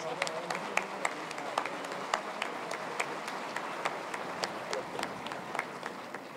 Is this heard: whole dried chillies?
no